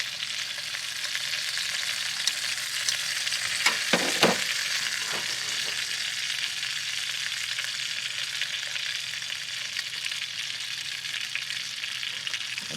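Nine oversized Donohue Quality Meats sausages frying in a crowded pan, a steady, even sizzle and crackle throughout with a few brief clatters of movement near the start.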